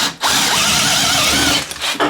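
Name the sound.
Teccpo 12 inch brushed cordless drill drilling through wood knot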